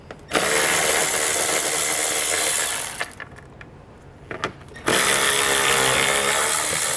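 A power tool loosens two 10mm head bolts from an interior panel on a 2020 Subaru Outback Wagon, running loud and steady for about two and a half seconds, pausing amid faint clicks and handling, then whirring again.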